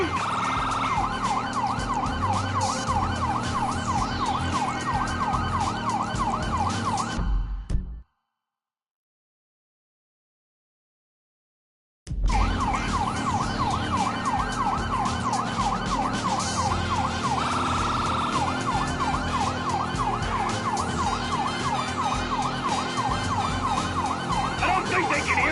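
A continuous wailing police siren in Grand Theft Auto V plays loudly with traffic noise during a pursuit through a tunnel, cuts to silence for several seconds, then resumes just as loud.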